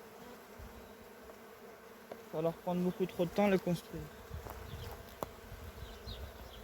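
Honeybees hum around an opened hive frame in a soft, steady buzz nearby while someone speaks in French over it.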